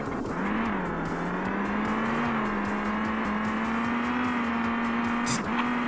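A car engine in VRChat drones steadily at high revs, its pitch rising slightly, loud and continuous with a brief blip near the end.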